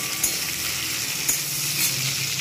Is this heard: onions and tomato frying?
yes